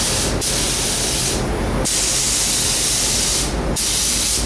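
A Secola spray gun with a 1.5 fluid tip hisses steadily while spraying basecoat paint, a loud close rush broken by two brief pauses when the trigger is released.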